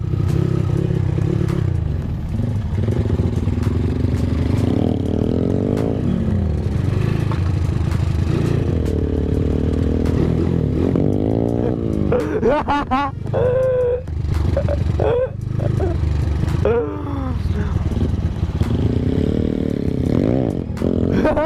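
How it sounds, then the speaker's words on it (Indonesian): A motorcycle engine roars and revs steadily throughout, loud and close, with clattering and scraping as it bumps along a rough rice-field trail, voices occasionally shouting over it. "Motor ngene iki digo spek trabasan"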